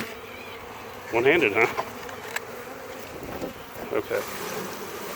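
Honeybees from a package being installed into a hive in cold weather, a soft steady buzzing that swells briefly as the bees are knocked down, with a person talking quietly over it.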